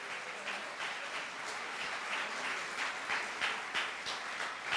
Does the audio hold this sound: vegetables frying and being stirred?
no